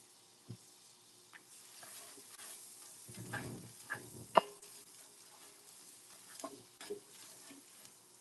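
Butter and onions sizzle in a hot frying pan, a soft crackle broken by scattered pops and scrapes, with no talking.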